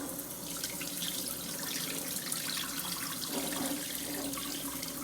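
Water pours out steadily from a container while rice is rinsed, a continuous splashing rush with a faint drip-like texture and no talk.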